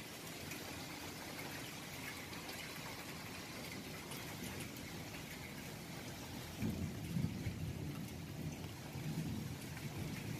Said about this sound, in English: The storms that fell in the form of rain and hail this afternoon in Aragon